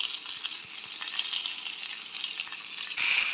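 Chicken pieces frying in a hot pan of browned onions for a Kundapur-style chicken sukka, a steady close sizzle and crackle that swells louder near the end, with no talking.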